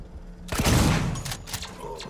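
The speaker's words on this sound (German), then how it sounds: "Oh, nur ein Schuss." A single loud gunshot fires in the survival horror game Alien: Isolation, a sharp blast with a booming tail that fades out over about a second.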